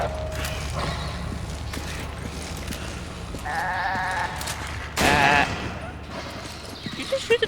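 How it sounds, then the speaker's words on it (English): A goat in Resident Evil 5 lets out a wavering, nasal bleat amid game noise, with a mechanical creak and a burst of gunfire-like sound following, while players talk over the top. "This goat's acting weird."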